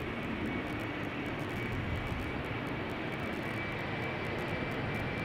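A jet airliner approaching at Amsterdam Schiphol Airport, its engines making a steady broadband roar with a faint high whine that holds fairly constant throughout, moderately loud and fairly close.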